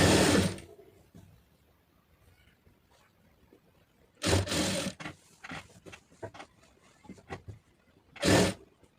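A sewing machine stitching a star neck blouse runs in three short bursts of rapid mechanical whirring, each loud and close, with quiet handling and small clicks between them.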